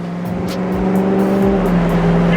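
A BMW F90 M5 S63 V8 engine drones loudly close by with a deep, steady exhaust rumble and a slight rise in pitch.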